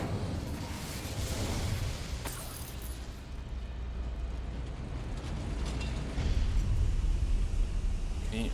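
Incendio fire spell cast in Hogwarts Legacy, a rushing, rumbling whoosh that holds steady and swells louder near the end, with no talk over it.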